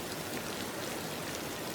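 Rain falling in a soft, even hiss of countless drops, quiet and continuous without a break.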